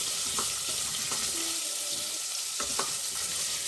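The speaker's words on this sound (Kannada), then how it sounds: "ಒಂದು 5 ನಿಮಿಷ ಈ ಥರ ಫ್ರೈ ಮಾಡ್ಕೋಬೇಕು. ಸ್ವಲ್ಪ ಹೈ ಫ್ಲೇಮಲ್ಲಿ ಇಟ್ಕೊಂಡು ಫ್ರೈ ಮಾಡಿದ್ರೆ ಬೇಗ ಆಗುತ್ತೆ" Carrots for jaggery carrot halva fry over a high flame, a steady close hiss and sizzle with occasional stirring scrapes and clinks of a spoon against the pan.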